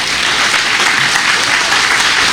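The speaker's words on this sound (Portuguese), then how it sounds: "Aplauda bem forte ao Senhor" A church congregation claps hard and fast for the Lord, a steady, loud wash of dense applause filling the room without pause.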